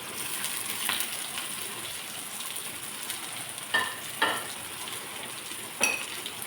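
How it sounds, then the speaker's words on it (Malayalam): A green chili and a handful of chopped shallots sauté in hot oil with mustard seeds. A steady soft sizzle runs throughout, broken by a few sharp spatters and scrapes. "ഇതിലേക്ക് ഒരു പച്ചമുളകും അഞ്ചാറ് ചെറിയ ഉള്ളിയും അരിഞ്ഞു വെച്ചത് കൂടി നമുക്കിട്ട് വഴറ്റിയെടുക്കാം"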